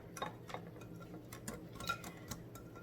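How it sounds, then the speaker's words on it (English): Homemade soy milk batter for a frittata being whisked in a bowl, a quiet, quick run of light ticking taps against the bowl. "I'm just going to whisk this together."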